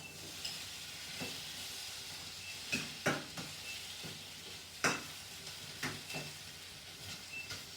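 Mushrooms and softened onions sizzling in a frying pan, a steady faint hiss broken by sharp crackles and several clacks and scrapes of stirring, with no talk.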